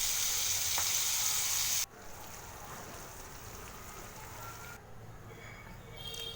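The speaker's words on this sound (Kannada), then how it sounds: "ಎಣ್ಣೆಯಲ್ಲಿ ಬಿಸಿಯಾಗಿ ಕರೀರಿ" Stuffed fenugreek wheat snacks deep frying in hot oil, a bright, loud sizzle that drops sharply in intensity partway through and then continues as a softer, steady bubbling crackle.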